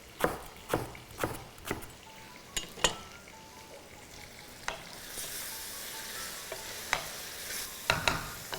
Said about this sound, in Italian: Aggiungo le melanzane.